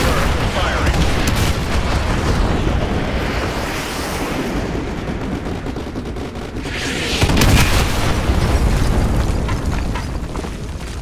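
Artillery strike in Call of Duty Modern Warfare 2 Campaign Remastered, heavy booming blasts and rumbling detonations rolling continuously with a bigger burst near the middle, loud and dense, with gunfire and voices mixed in.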